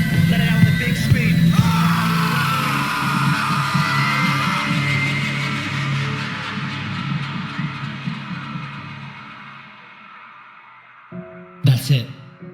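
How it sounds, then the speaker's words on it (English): A loud, sustained cathartic scream rings out during a breathwork session. It holds for several seconds, fades gradually, and a brief burst of sound follows near the end. "Let it out with a big scream."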